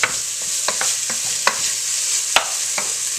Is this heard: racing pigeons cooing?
no